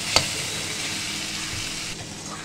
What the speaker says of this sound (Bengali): এবার ভালো করে নেড়ে চেড়ে নিচ্ছি